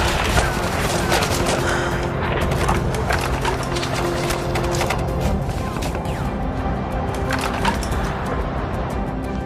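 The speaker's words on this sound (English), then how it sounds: "The enemy kept firing at us." Sustained gunfire from a war dramatization of the Kargil conflict, dense and continuous with overlapping shots and rumbling battle noise throughout, loud and close, with no clear speech over it.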